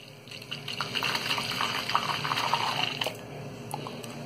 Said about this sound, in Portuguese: vai encher o potinho de água.